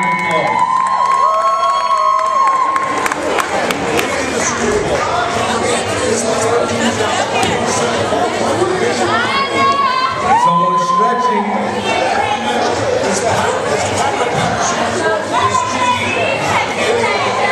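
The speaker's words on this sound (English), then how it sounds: "Give our dancers a round of applause." At a halftime show, a large, loud crowd cheers, whoops and claps for the dancers taking the stage, children shouting among the chatter and music throughout.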